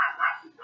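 A dog, provoked by a cat, lets out a short, close whining yip that rises and falls within a second.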